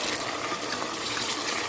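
Water poured into a pan while cooking a Philippine-style paella, a steady broadband rush and splash held at an even, fairly loud level for the whole moment with no talk.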